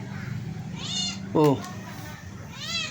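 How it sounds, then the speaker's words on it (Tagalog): A hungry, fussy cat meows close by, several short plaintive cries spread across a few seconds, with a person talking softly between them. "Napaka-aarting pusa. Hirap pakain."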